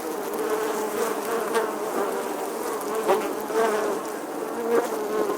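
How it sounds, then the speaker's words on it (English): Honeybees fly around beehives, a dense, close buzzing drone with individual bees swelling louder as they pass near, continuous and without talking. "there are bees flying all around us"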